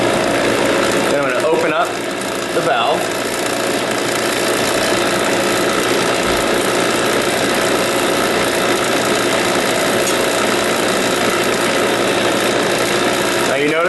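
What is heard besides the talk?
HVAC vacuum pump running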